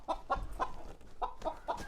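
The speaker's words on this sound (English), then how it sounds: "So Larry is the blind silky rooster." A blind silkie rooster calls from nearby on a small farm, sounding a series of about six short, clucking calls in two uneven bursts, moderately loud and heard alone.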